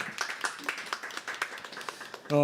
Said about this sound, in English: Can you please have another applause?